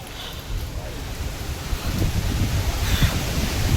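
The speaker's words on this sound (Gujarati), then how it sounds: "અને પવન ચારે બાજુ ફૂંકાઈ રહ્યો છે." Wind blows across the foggy monsoon hilltop of Datar Hill, a rough, rumbling gust noise that swells and grows louder toward the end, with no speech.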